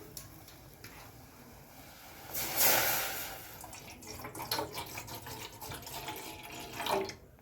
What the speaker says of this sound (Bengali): এবার আমি এই গামলিটা বসিয়ে দিলাম এর মধ্যে দিয়ে দিচ্ছি কিছুটা জল